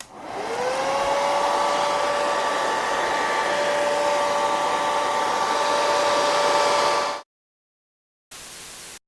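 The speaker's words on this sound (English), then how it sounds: "Now grab your hairdryer and heat the right overhang until the skin is soft." A hairdryer blows loud and steady for about seven seconds while heating the vinyl skin on an iPhone 6, then cuts out abruptly and comes back on briefly near the end.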